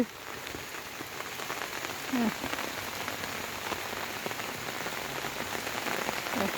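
Rain falls steadily in a dense hiss of drops on a surface, unbroken throughout.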